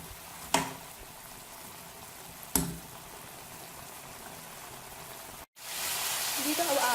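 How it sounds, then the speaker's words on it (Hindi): Chicken boils down in its water over a high flame, giving a constant soft bubbling hiss broken by two sharp knocks and a brief dropout, then a louder sizzling rush near the end. "अब हमने इस नीचे से आग को बिल्कुल तेज़ कर दिया ताकि ये उसका सारा पानी खुश्क हो जाए अच्छे से।"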